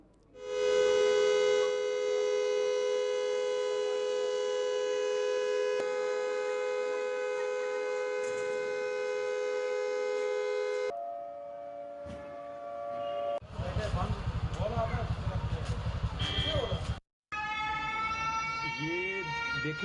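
Civil defense sirens wail during a blackout mock drill in Jammu, a loud sustained tone holding steady for several seconds, then shifting pitch, cut by a burst of noisier sound and a brief drop before another siren tone returns.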